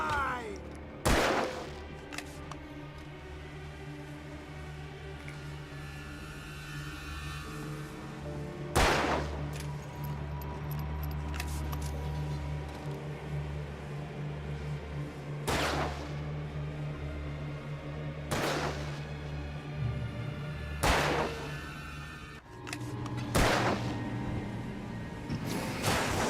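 Gunfire in the video game Alan Wake: a handful of sharp, loud shots spaced several seconds apart over a low droning ambient bed, with a player talking between them.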